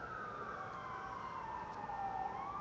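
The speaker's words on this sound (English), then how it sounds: "the beautiful sound of the shofar" Shofars blown in the distance from a tent give a sustained wavering horn tone that slides slowly downward, then rises at the end, faint beneath heavy background noise.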